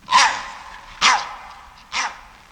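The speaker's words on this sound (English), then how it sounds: "Benji barked desperately" A dog barks three times, sharp and close, each bark spaced about a second apart.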